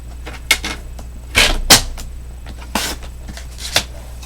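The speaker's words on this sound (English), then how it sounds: "I'm just going to trim it from here up to just a little bit short of that corner" Paper trimmer or scissors cutting cardstock for a diamond tri-fold panel card, heard as a few short, sharp swishes and snips with quiet gaps between them.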